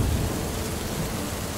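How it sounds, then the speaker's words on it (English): Heavy rain pelts a bedroom window in a steady, dense wash, with low thunder rumbling close at the start and continuing to roll beneath the downpour. "the rain pelting down on his bedroom window"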